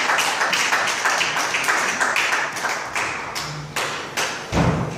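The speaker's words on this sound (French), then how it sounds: "Est-ce qu'on peut applaudir la parole de Dieu?" A church congregation applauds after a scripture reading, dense irregular hand claps with heavier thuds, filling the space steadily before tapering off at the end.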